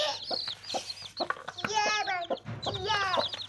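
Mother hen clucking softly near her five newly hatched chicks, short repeated clucks mixed with high chirping peeps from the chicks, close and fairly quiet.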